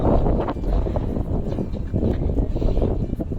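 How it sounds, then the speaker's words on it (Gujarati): Strong, cold wind over a fenugreek field buffets the microphone in low rumbling gusts, with a faint rustle and a few brief knocks, no talking. "અત્યારે પવન પણ બહુ એકદમ ફાસ્ટ પવન છે"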